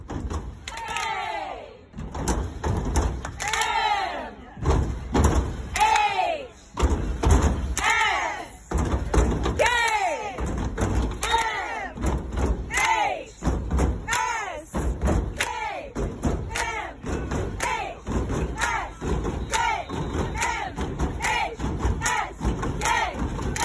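A school student section led by the Kilt Squad repeats a chant many times: two sharp claps, then a long shouted Ric Flair "woo" from the whole crowd, in a loud, steady rhythm.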